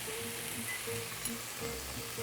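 Branzino fish sizzles in a hot pan, a steady, close crackling hiss with faint popping and no talking.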